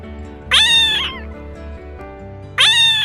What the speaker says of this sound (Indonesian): kucing itu adalah hewan yang Allah ciptakan dapat berbunyi. Bagaimana bunyi kucing?